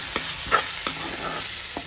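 Spice powders, turmeric and coriander among them, stirred and sautéed in a pan, giving a steady soft sizzle broken by several scraping stirs, close and alone with no voices.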